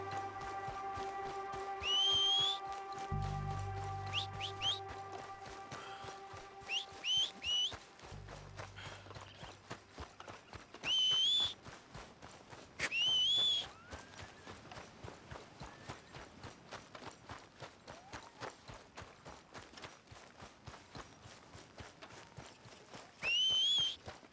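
Sharp whistles call a horse in Red Dead Redemption II, sounding several times over a steady clip-clop of hooves that trots along throughout, fairly quiet overall.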